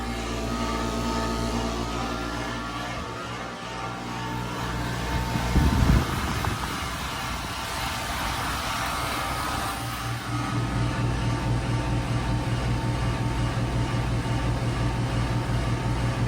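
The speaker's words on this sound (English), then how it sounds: "It's sort of rattling. That sound is not good." A 2008 heat pump running in cool mode gives a continuous mechanical hum and fan drone with a rattling buzz, a brief knocking burst midway, then a steadier, slightly louder hum.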